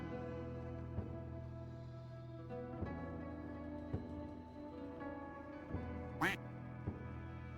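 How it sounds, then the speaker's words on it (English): Cartoonish duck quacks from the homing ducks spell in the Noita video game pop up repeatedly over a steady, droning tonal game soundtrack. "We could bust out some homing ducks."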